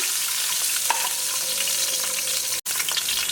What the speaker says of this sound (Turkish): Şimdi hemen tenceremize Şöyle 5 adet soğanı ve 7 tane sarımsağı koyuyorum